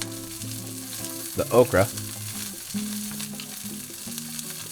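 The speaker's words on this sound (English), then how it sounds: "We're gonna let all this kind of sizzle in the olive oil." Okra sizzles in olive oil in a pan while an omelette is being made, a steady close frying hiss with a brief louder burst of crackling as the vegetables are stirred, and a person talks over it.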